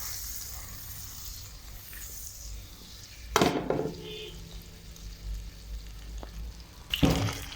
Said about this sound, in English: Heating up some butter.